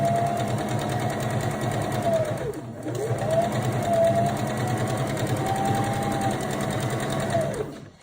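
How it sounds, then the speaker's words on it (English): A sewing machine runs steadily, stitching a seam with a short back stitch to lock the end, a continuous buzzing whir with a brief dip in speed midway before stopping near the end. "I like to do a little back stitch just to secure the end of the seam"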